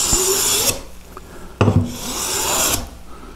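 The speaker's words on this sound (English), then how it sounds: "I can go right at it with the smoother." Two long, close rasping strokes of a smoothing plane shaving power-planed white oak, each a crisp hissing swish of steel cutting wood, with a brief pause between them.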